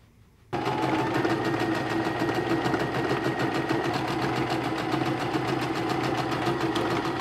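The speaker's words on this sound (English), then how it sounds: "So I'm gonna sew it that way." A sewing machine starts abruptly and runs at a steady, fast, even rhythm, stitching a seam on a sundress made from a bedsheet, loud and close with no talk.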